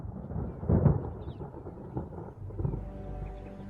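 Thunder from storm clouds forming over Botswana at the end of the dry season rolls as a low, continuous rumble, swelling in heavier bursts near the start and again later, with no voices.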